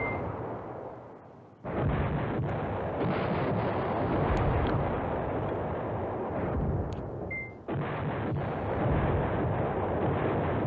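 Artillery fire in the Command Ops 2 war strategy game, a loud continuous roar of rumbling barrages that drops out briefly near two seconds and again around seven and a half seconds, then resumes.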